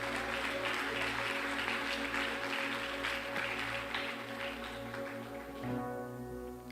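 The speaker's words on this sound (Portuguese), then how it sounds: "Aplauda o nome do Senhor." A church congregation claps during a sermon, with dense, sustained applause that stays loud throughout and sits over steady background tones from instruments or amplification.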